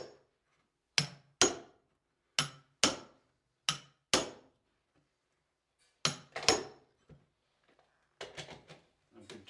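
Chisel tapped with a hammer to tuck a stair runner carpet behind a tack strip: sharp, close metallic knocks in spaced pairs and singles, ending in a quicker cluster of lighter taps, with silence between.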